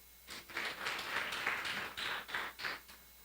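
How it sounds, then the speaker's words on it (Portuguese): A church congregation claps for the Lord at the end of a church history class, a quiet, somewhat distant patter of hands in uneven bursts that fade and return, no talking. "Podemos aplaudir o Senhor?"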